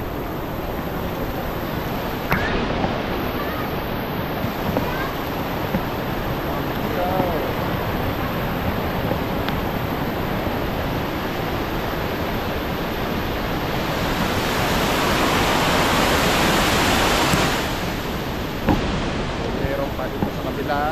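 Heavy rain pours steadily at an outdoor bathing spot, a dense continuous wash of water noise that swells and roars louder toward the end, with faint voices underneath.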